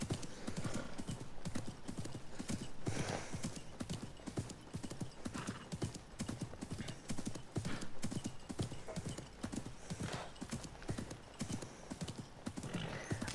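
A horse in Assassin's Creed Mirage gallops through the desert, a steady rapid clip-clop of hooves running throughout, with occasional whinnies mixed into the quiet in-game soundscape.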